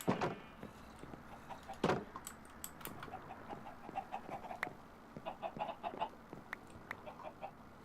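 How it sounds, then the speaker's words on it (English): Diamond chickens in the video game Minecraft Sky Factory 3 give a series of faint, scattered clucks, with a single dull knock near the start and no talking. "let's go find ourselves a suitable diamond chicken"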